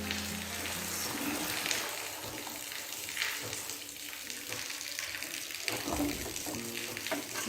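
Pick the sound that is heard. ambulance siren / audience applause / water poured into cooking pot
water poured into cooking pot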